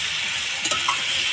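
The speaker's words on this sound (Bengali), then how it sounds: "মাংসটা ভালো করে কষে নেবো।" Duck meat sautéing with ground chili and spices in a pan, a bright continuous sizzle with a few spoon-on-pan clinks near the middle, close up and without speech.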